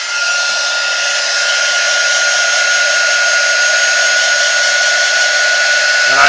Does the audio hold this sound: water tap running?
no